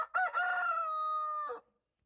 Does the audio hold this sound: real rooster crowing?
yes